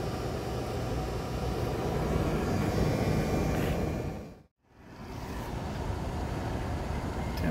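A motor running slow and hot on a charcoal gasifier gives a loud, steady rumbling drone. It cuts out sharply for a moment midway, then resumes, with no talking.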